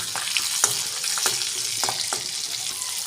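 Garlic sizzles steadily in hot oil in a pan alongside green chillies, with a constant bright frying hiss broken by a few sharper crackles and spatters, close and alone without any voices.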